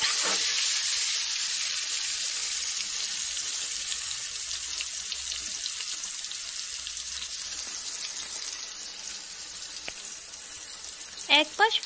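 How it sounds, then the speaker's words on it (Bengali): Marinated chicken deep fries in hot oil, producing a steady, close hiss of sizzling that fades slightly over time, with a few light clinks near the end. "এবার ম্যারিনেট করা চিকেনটিকে আমি ডিপ ফ্রাই করতে চলেছি।"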